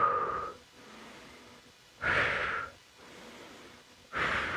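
Heavy exercise breathing during a lower-body conditioning workout with weights, made of three strong, close breaths about two seconds apart, each a rushing inhale or exhale with quiet gaps between.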